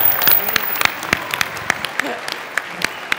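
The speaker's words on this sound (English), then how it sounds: "Keep that applause going" Applause from the audience at a realtors' talent contest, a clear ragged patter of individual claps that thins into scattered, distinct hand claps, with talking underneath.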